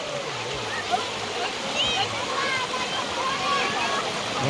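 Steady rushing of flowing water fills a stone tank at Choreshwar temple during monsoon rain in Shravan, a continuous close wash of splashing without break.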